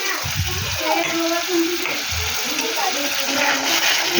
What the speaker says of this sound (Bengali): তো বন্ধুরা, এবার টক দইটা আমি দিয়ে দিলাম।